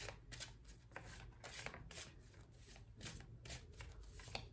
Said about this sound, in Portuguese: Vou trazer aqui uma carta do baralho cigano